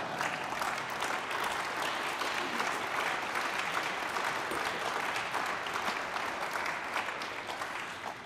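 Sustained audience applause fills a speech hall during a Berlin address on freedom by Mark Rutte, steady and dense throughout before tapering slightly at the end.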